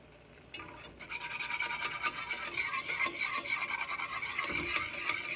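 A whisk scraping and rasping against a pot while stirring a small roux base for a blue crab soup, with quick rhythmic strokes that grow busier after a brief start, close and fairly quiet.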